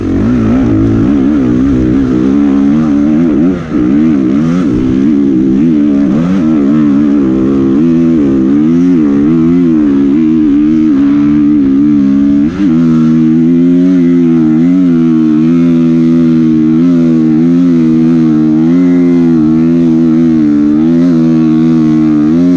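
Off-road motorcycle climbing a steep hill at wide-open throttle, the engine loud and close with a strained, wavering roar that rises and falls with traction, briefly dips during a downshift, then holds a steady high-revving pull.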